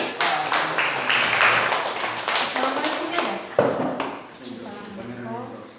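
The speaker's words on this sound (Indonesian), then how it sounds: "Tepuk tangan nak" A school class claps for a group after its presentation, scattered hand claps over several seconds with a voice talking through them, the clapping thinning toward the end.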